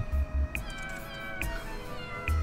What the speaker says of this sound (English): Ugh, it's that cat.